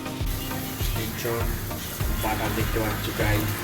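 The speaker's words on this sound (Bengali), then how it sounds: "আর এটা হলো গিয়ে শ্যালো ফ্রাই" Kebabs shallow-fry in a pan with a little butter, giving a steady, bright sizzle close by with stirring noises underneath, while a person talks over it.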